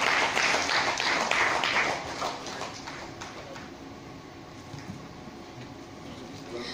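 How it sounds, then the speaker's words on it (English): Audience applause at a corporate panel discussion event, a dense wash of clapping that starts full and gradually thins and fades over several seconds. "Everybody, let's have a huge round of applause for Mr. Bhandari as well."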